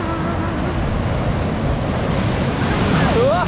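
Ocean surf at Tembeling Beach on Nusa Penida, Bali, a loud, steady roar of breaking waves with heavy wind buffeting the microphone, and faint voices in the background.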